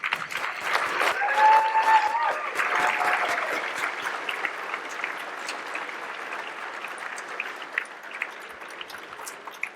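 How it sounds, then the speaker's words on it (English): Warm applause from a gala audience honoring the Fenway Health staff, swelling in the first seconds with a few cheers, then thinning to scattered claps that taper off toward the end. "I do want to give one more round of applause for our staff."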